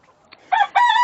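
Backyard chickens give a couple of short clucks, then a rooster crows loud and close in one sustained call.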